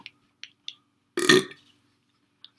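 A single loud, gurgling burp stands out in a quiet room, preceded and followed by a few small clicks, with no talking.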